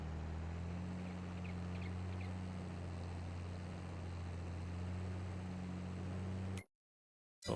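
A tractor engine in Farming Simulator 22 labours up a hill while pulling a small cultivator. It gives a steady, loud, droning hum with strong low tones that never lets up, then cuts off abruptly near the end.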